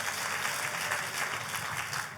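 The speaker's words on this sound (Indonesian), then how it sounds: "Kita kasih tepuk tangan yang paling meriah buat Tuhan kita" A brief burst of enthusiastic applause from a church congregation during a sermon, dense clapping heard alone and at moderate volume.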